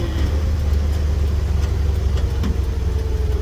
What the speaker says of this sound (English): driving with the window open